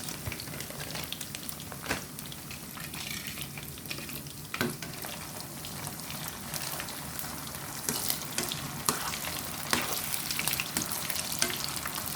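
Meatballs deep frying in oil at a street food stall in Buriram, Thailand, giving a steady crackling sizzle throughout with occasional sharp clicks and scraping stirs, moderately loud and without talk.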